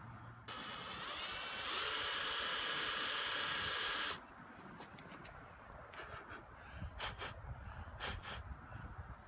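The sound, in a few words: drill drilling out a stuck screw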